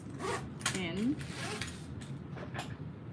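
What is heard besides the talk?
zipper pulls being pulled on a canvas bag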